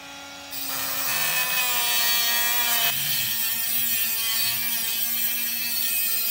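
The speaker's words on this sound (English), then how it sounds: "now I want a fine groove on this pin." A thin Dremel cutoff disc spins against a small pin to cut a fine groove, making a close, steady high-pitched whine with a shifting tone that keeps going without pause.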